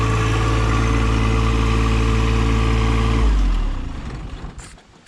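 A John Deere tractor engine idles steadily with a low droning hum, then cuts off and winds down to quiet with a few faint clunks near the end.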